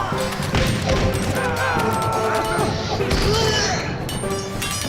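The Da Vinci tank being destroyed in the battle game TABS (Totally Accurate Battle Simulator), heard as a dense, continuous barrage of crashing impacts and booming, gunfire-like bursts that fill the whole clip at a steady loud level.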